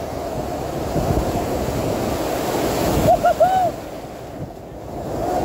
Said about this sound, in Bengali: আজকে কিন্তু প্রচুর বড় বড় ঢেউ আছে